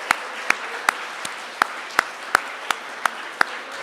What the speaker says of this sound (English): We're going to give you a round of applause for everything you've done.